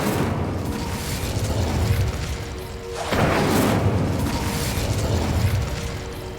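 A fire spell cast in Hogwarts Legacy, heard as steady whooshing flame noise that swells into a louder roaring burst midway and then keeps blazing at a constant level, with no talking.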